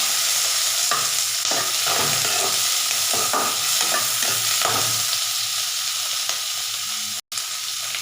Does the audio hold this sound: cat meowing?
no